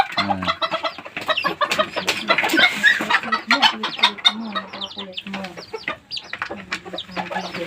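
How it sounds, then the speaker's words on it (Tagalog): Bantam chickens clucking busily and close, with a short crow near the start among overlapping calls from several birds. "Bantam! Mamansyapol."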